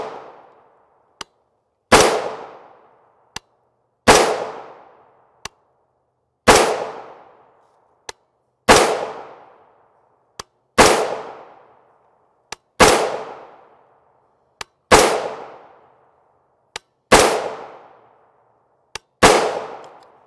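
Rifle shots of 5.56x45mm 55gr FMJ Stac-Tactical ammunition fired one at a time about every two seconds, each loud crack trailing off in a short echo, with faint clicks between shots.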